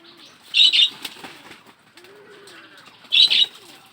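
Two separate bursts of pigeon wings flapping loudly nearby, spaced a few seconds apart, with soft cooing and quiet rustling between them, around a pigeon nesting area.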